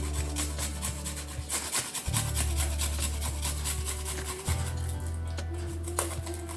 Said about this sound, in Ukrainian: Тепер зараз беремо ось таку терточку і натираємо сюди часничок.